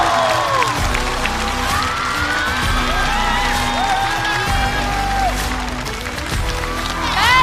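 A studio audience at a stand-up comedy show greets a team with loud applause, cheering and whoops, a dense crowd roar that stays full throughout and swells again near the end.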